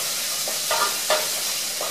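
A spoon stirs thick tomato paste in a pot for an easy tomato sauce, giving soft scraping and faint sizzling over a steady hiss, with two brief louder scrapes midway.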